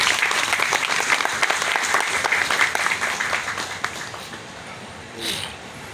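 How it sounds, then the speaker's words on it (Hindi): An audience at an ONGC farewell program in Surat gives loud, sustained applause for retiring officers, dense clapping that holds steady before tapering off near the end. "तो मैं चाहता हूं कि एक बार जोरदार तालियां इन सभी के लिए आप बजाएं"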